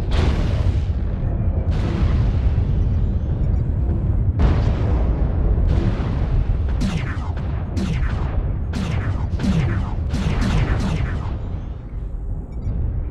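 Heavy weapons fire from mechs in MechWarrior Online Community Warfare, loud booming impacts and rapid cannon or missile bursts that quicken into a dense volley, with no pause in the constant battlefield rumble.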